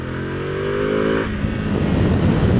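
A Ducati Multistrada V2 motorcycle engine climbs from a steady low idle-like drone into a rougher, louder rev over a couple of seconds, heard close with no talking.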